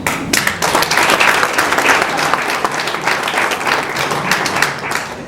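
Audience at a graduation ceremony for an access program applauds the graduates' parents, a dense, steady round of clapping from a large crowd that swells early and tapers slightly, with no talking over it.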